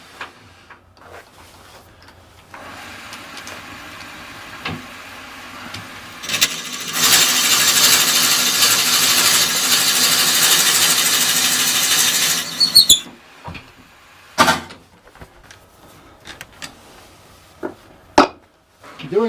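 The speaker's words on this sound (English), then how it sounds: "now I'm drilling all of the blanks with the 36 millimeter bit" A drill fitted with a 36 mm bit bores into wooden blanks, with one long, loud, steady grinding and whirring stretch in the middle. Short knocks and clattering handling noises come before and after it.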